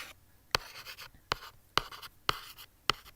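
Pen on paper while writing out a chemistry calculation, quiet scratchy strokes punctuated by about five sharp taps, close and without talk.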